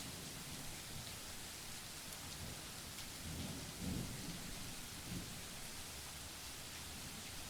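Soft, steady rain hiss with distant thunder rolling low in the middle, quiet and continuous for several seconds, no talk.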